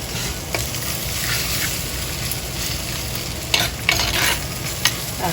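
Anchovies frying in a pan sizzle steadily while being stirred, with clear scraping and clattering from the stirring in the middle and near the end, and no talking.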